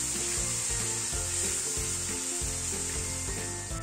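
Floured hake pieces sizzle loudly in a pan of sautéed flour while being moved about, a dense, continuous frying hiss with soft scraping and stirring underneath.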